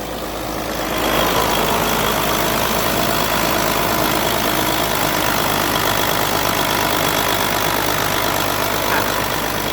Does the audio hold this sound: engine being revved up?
yes